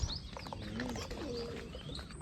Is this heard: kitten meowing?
no